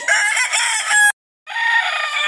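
A golden Sweater fighting rooster crows twice in quick succession, loud and close, with a brief silence between the two calls.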